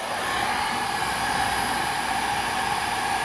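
A blow dryer runs steadily at close range, a loud continuous airy whoosh holding level throughout with no breaks and no talking over it.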